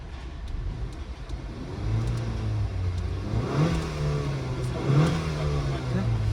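A car engine revs up twice, rising and falling in pitch over a steady idle, heard from close by behind the car.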